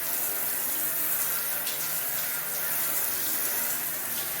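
Running water rinses lathered body wash off, a loud, steady, close hiss of flowing tap water with no pauses.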